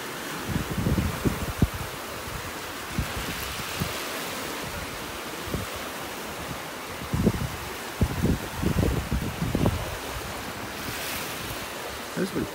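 Ocean waves wash steadily up a shell-strewn beach in North Naples, Florida, a continuous rushing surf under gusty wind buffeting the microphone, with occasional louder swells.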